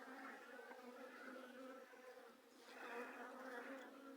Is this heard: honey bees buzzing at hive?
yes